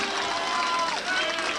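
Rugby league crowd at a Keighley versus Warrington match cheering a successful penalty kick, a broad roaring swell with a whistle-like tone over it, brief and loud.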